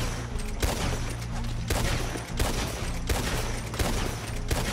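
Rapid bursts of gunfire crackle in a Red Dead Redemption firefight, with repeated loud shots and sharp volleys coming close together in an almost continuous barrage.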